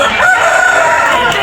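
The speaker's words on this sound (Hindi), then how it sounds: "बेट्टावरम भीमावरम का मुर्गा है ये" A Bhimavaram rooster with an upright comb crows loudly and close at a bustling Sunday birds and animals market in Hyderabad, the call held steady for over a second against dense background noise.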